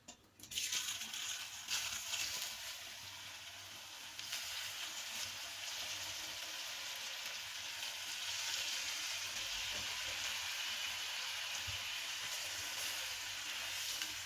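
Onion sizzling and frying in hot oil with black cumin, a steady dense hiss that holds loud and continuous throughout with no talk.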